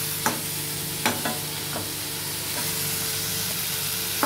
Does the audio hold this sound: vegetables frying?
yes